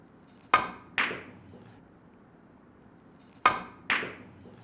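Two pairs of sharp clicks, a billiard cue tip striking the cue ball and the cue ball then cracking into the object ball, during a short follow-through draw shot on a carom table; crisp, close and isolated with quiet between.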